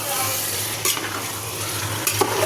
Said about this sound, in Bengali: মাংসটা দিয়ে এবার নাড়তে থাকবো